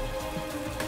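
Steady rain patter from the racing management game Motorsport Manager, a soft continuous hiss with light droplet texture lasting under a second, no voices over it.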